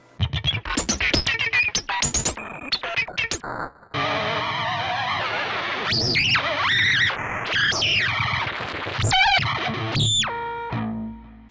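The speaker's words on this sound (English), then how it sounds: "Let's see what happens if we auto-tune a bunch of whammy bar stuff." Auto-tuned electric guitar whammy bar playing: choppy, distorted bursts give way to sustained processed notes that bend and dive in pitch, with squealing swoops and stepped warbles.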